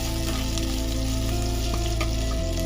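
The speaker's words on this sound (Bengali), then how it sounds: "এর মধ্যে দিয়ে দেবো আমরা আদা বাটা। আদা বাটাটা হালকা নাড়িয়ে নিয়ে" Ginger paste and green chillies frying in oil for a vegetable dal, a steady close sizzle with faint scraping from stirring throughout, no voices.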